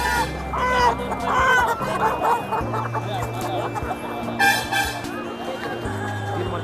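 Turkeys and guinea fowl at a livestock market give repeated close clucks and squawking calls over a busy background of steady horn-like tones and murmuring voices.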